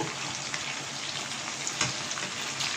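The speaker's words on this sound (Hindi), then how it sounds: "लीजिए फिश आपके सामने फ्राई हो रही है" Fish frying in a pan for a homemade Schezwan fried fish, giving a steady, dense sizzle with faint pops throughout, close and continuous with no talking.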